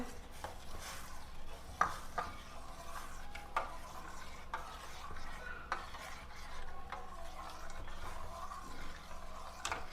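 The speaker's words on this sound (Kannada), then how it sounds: "ಲೋ ಫ್ಲೇಮಲ್ಲಿ ಇಟ್ಕೊಂಡು ನೀಟಾಗಿ ಹಿಂಗೆ ಅಲ್ಲಾಡಿಸ್ತಾನೇ ಇರಬೇಕು" A spoon stirring jelly mixture with sugar in a pan over a low flame, steady scraping and swishing strokes up close with occasional light clinks, no talking.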